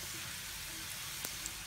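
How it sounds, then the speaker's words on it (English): Whole slit red chilies and garlic frying in hot oil, a steady close sizzle with a few small pops and crackles, heard alone. "Now we are adding 3 slit whole red chilies."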